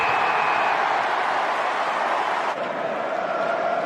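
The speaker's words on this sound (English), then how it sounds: "Listen to the crowd." Stadium crowd at an Australian football match roaring in a continuous, loud, dense wash of cheering and noise with no clear breaks.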